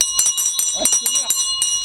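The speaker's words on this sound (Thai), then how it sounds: "มีกระดิ่งอยู่อันเคาะเรียก" A hand bell rung by an elderly woman boat vendor selling snacks along a Thai canal, struck in a quick repeated rhythm of bright, close metallic rings while people talk over it.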